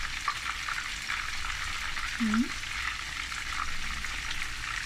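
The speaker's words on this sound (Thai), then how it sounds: "เห็ดไข่มุก ชุบแป้งทอดค่ะนี่ค่ะ" Battered pearl mushrooms fry in hot oil, giving a soft continuous bubbling sizzle at moderate level with a brief tonal squeak partway through.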